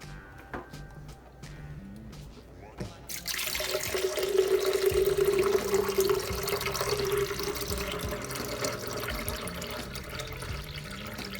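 Water pours into a tonic mixture of lime juice and honey, a steady splashing fill with a rising ringing tone that starts abruptly after quiet handling noises and carries on to the end.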